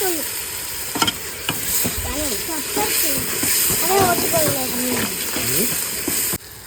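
Spices and tomatoes sizzle and fry steadily in a pan for a mutton fry, with stirring clatter and a voice talking over the cooking throughout.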